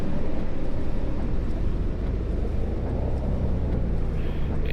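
A coach bus rumbles as it pulls away after the handbrake is released in Fernbus Simulator, a continuous low, rough engine drone with wind-like hiss, steady and fairly loud.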